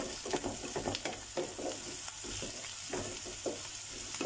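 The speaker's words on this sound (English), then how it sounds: "Let's give it a stir now." Kebab chutney being stirred in a pot, with faint sizzling under irregular scraping and clattering strokes, soft and close, with no talking.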